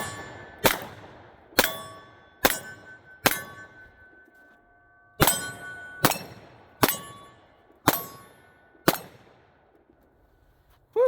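An FN 510 Tactical pistol fires 220 grain Grizzly ammunition at a range, ten sharp, loud shots in two quick strings with a short pause between, each with a ringing metallic tail.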